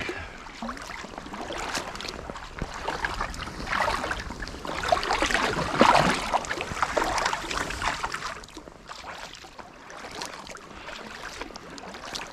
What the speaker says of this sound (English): Paddling through here is going to mess up the reflection.